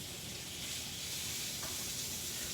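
Corned beef sizzles and crisps in a pan while a Reuben boxty is cooked, giving a steady, fairly quiet frying hiss with no break through the whole stretch.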